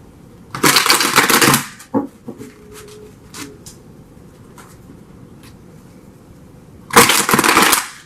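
Tarot cards are shuffled in two loud, dense riffling bursts near the start and end, separated by a few softer taps and handling sounds, with no voices.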